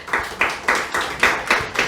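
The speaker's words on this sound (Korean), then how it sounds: "그 하나님께 박수로 영광을 돌리겠습니다" Rhythmic unison clapping from a church congregation during Korean worship, about seven sharp claps in a steady beat, fairly close and moderately loud.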